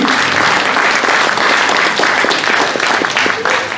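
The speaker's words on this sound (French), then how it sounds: "On peut l'applaudir." A blues concert audience applauds the winner of a big blues contest. Dense, loud clapping fills the room steadily throughout, with faint voices mixed in.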